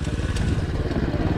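A Racer 110 motorcycle engine runs close by during break-in, a loud, steady rapid putter with no talking.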